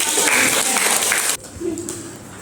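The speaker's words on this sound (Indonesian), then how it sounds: "beri tepuk tangan" Applause from a school classroom rings out loud and dense for over a second, then cuts off abruptly, and voices and a fainter mix of room noise follow.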